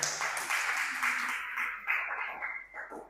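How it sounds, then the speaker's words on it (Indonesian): Scattered applause from a small classroom group for a dakwah team during a teaching session, a brief, fairly quiet patter of hands that thins out and stutters toward the end. "Tepuk tangan untuk kelompok dakwah ini."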